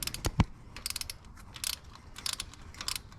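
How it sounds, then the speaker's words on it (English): A wrench works on a water pump bolt of a 2008 Ford Edge with a Duratec engine, giving a couple of sharp knocks followed by bursts of quick ratcheting clicks, close up and without speech. "I'm going to have to use a wrench on that one"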